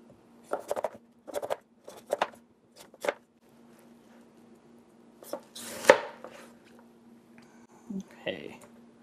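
A knife cutting watermelon into triangles gives a series of short, crisp chopping strokes, some in quick pairs, with a softer rustle of rind and a brief voice near the end.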